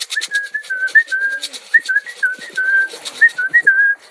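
Someone whistles to call home pet pigeons, a close, steady run of short rising and falling whistled notes repeated in bursts with brief gaps, clear and alone without talk.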